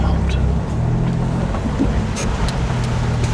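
A 1JZ engine converted to a single turbo idles steadily and quietly, a low continuous rumble with faint higher clatter over the top and no talk.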